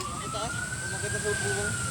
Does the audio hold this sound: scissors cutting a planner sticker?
no